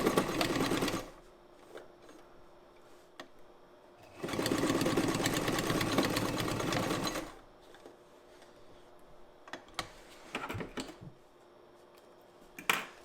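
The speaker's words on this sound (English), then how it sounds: "once the machine was going and it had momentum, the flywheel effect got it through" Frister & Rossmann 35 sewing machine, modified for heavy duty work, stitching through very thick fabric in two steady mechanical runs, the longer one lasting about three seconds, with clicks and handling sounds in between.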